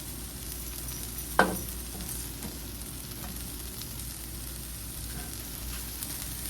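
Sausage cooks in a pan at breakfast with a soft, continuous sizzle nearby and a single sharp clink near the start; nobody speaks.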